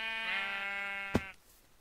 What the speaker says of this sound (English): I'm gonna kill this sheep.